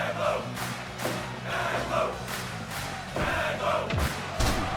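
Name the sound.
wrestling crowd cheering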